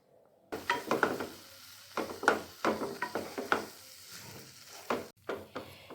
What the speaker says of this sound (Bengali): এখন আমি সুজিটাকে দুধের মধ্যে ভালো মতন সেদ্ধ হতে দেব, আর এভাবেই অনবরত নাড়াতে থাকবো